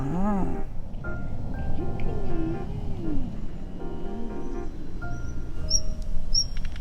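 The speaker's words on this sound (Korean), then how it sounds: "새소리가 엄청 가까이 들리네." Birds chirp and call close by in short, bright bursts, with a few high tweets standing out over a low outdoor rumble.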